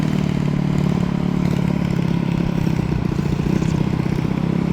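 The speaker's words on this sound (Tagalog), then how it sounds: "Motor palang ganyan dito mga par, ingay." A loud, close motorcycle engine drones continuously with a rattling, buzzing tone that holds steady throughout.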